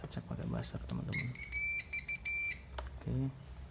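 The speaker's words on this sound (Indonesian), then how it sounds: "Kita cek pakai buzzer teman-teman." A multimeter continuity buzzer beeps in short high repeated tones while a small Maspion fan is tested, mixed with clicks and someone talking close by.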